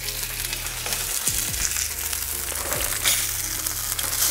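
Salmon fillets frying in a pan, a loud steady hiss and crackle of sizzling oil throughout, with a couple of brief clunks as the fish is turned.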